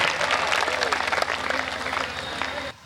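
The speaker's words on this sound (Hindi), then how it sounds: "एक बार ताली बजाओ ऋषभ भाई साहब के लिए।" A comedy poetry gathering's crowd breaks into loud, close clapping that rolls on for about two and a half seconds before cutting off, with voices heard over it.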